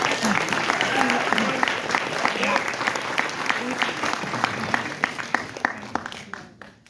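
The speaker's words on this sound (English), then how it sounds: "you guys can clap like crazy because she's awesome and deserves it" An audience at an evening school committee meeting claps enthusiastically, the dense applause steady for several seconds before thinning into scattered claps, with a few voices mixed in.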